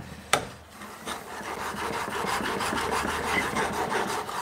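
A woodworking tool's edge honed on a sharpening stone to form a secondary bevel, giving a sharp first stroke followed by continuous close gritty rubbing, alone and without talk.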